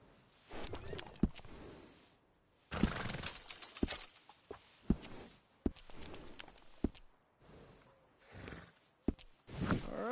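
Horse hooves clip-clopping in the Red Dead Redemption 2 game, steady nearby steps with sharp individual hoof knocks over a noisy background, pausing and resuming in bursts.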